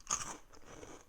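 Christmas cereal is crunched in the mouth: one crisp bite followed by quieter crackling chews, close and faint, heard alone.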